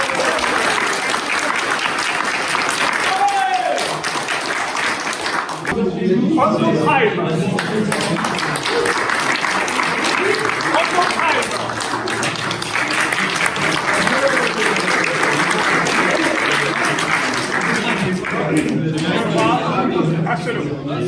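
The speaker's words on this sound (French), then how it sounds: "Un tonnerre d'applaudissements." Sustained applause fills a tournament gathering at an inn, a dense crowd clapping near and loud with chatter underneath, and a brief voice speaking at the start.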